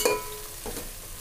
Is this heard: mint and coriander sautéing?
yes